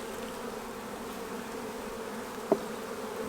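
Honey bees buzz around an open beehive during a spring inspection, a dense continuous hum close by with one brief knock partway through and no talking.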